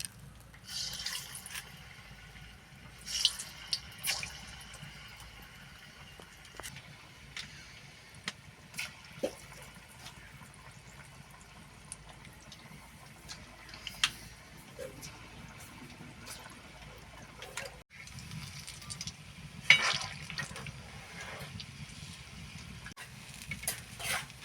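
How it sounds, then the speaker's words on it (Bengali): Palm fritters (tal bora) dropped into hot oil in a home kitchen, with soft intermittent sizzling, bubbling and drips, occasional sharper pops and stirring clinks, fairly quiet and without talk. "গরম হয়ে গেছে, এবার বড়াগুলো ছেড়ে নেব।"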